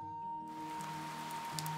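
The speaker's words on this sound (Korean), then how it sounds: "아이쿠, 비가 오네." Rain falling as a sound effect in a 2D animation, a soft, steady hiss of drops that begins abruptly after a moment of tonal hum and continues alone.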